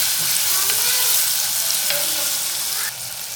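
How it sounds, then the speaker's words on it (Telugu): Ginger garlic paste frying in a pan for vegetable pulao, a steady close hiss of sizzling oil with light stirring scrapes throughout, dropping slightly quieter near the end. "ఒక టేబుల్ స్పూన్ అల్లం వెల్లుల్లి పేస్ట్ వేస్తున్నాము"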